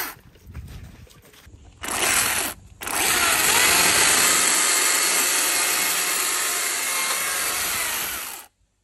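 A Makita power tool cuts through tree branches up close, two loud bursts of cutting, a short one then a sustained run of about six seconds, ending abruptly, with faint handling noise before, no talk.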